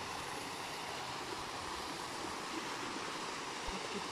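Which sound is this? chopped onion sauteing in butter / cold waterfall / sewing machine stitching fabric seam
cold waterfall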